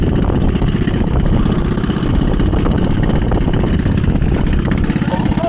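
A small gasoline engine on a ricefield machine runs loudly and steadily close by, a rough low throb with a fast repetitive knock-like pulse, while a voice talks faintly under it.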